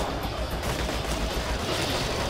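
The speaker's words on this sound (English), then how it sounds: "They're shooting you." Dense continuous gunfire in the Devil's Third video game, loud and unbroken with overlapping shots filling a short stretch.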